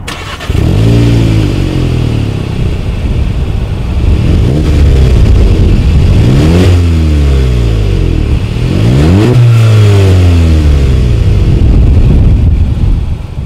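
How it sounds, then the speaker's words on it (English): Exhaust of a 2019 Volkswagen Golf GTI with dual chrome-tipped outlets, revved several times while parked: loud, close engine blips that climb and fall in repeated sweeps over a steady idle, with no one talking. "As always, here is that exhaust clip."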